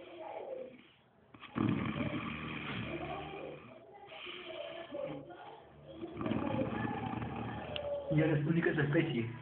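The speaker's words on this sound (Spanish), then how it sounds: "vamos a ver un papagayo roncando" A parrot snoring in raspy, rhythmic breaths at close range, steady and fairly faint, with a voice speaking at the same time.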